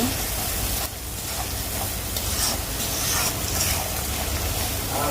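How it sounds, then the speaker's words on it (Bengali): Fried prawns stir-fried with spice paste and chili powder in a pan give a steady, moderately loud sizzle with scraping stir strokes throughout, heard alone. "ভেজে রাখা চিংড়ি মাছটা এবার মশলার সঙ্গে কষাই নেব"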